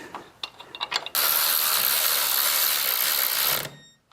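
Ratchet or power tool tightening a through bolt with a locking nut on a Honda CB650F motorcycle front end, a loud continuous mechanical whirr lasting over two seconds after a few short clicks, then stopping.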